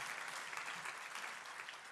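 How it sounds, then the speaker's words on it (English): Sustained applause from an awards ceremony audience for an honoree, a thick, even wash of many hands clapping heard from a distance and moderately quiet, with no speech over it. "A big round of applause for him."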